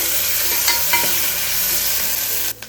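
Onions with ginger garlic paste frying in a hot pan, a steady dense sizzle with a few scrapes of stirring, close and loud, ending in a sharper clatter.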